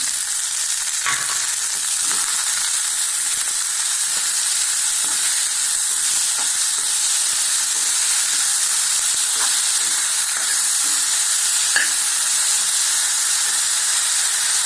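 A steady, hissing sizzle of tomatoes frying in a pan with salt, with a few faint clinks as it is stirred.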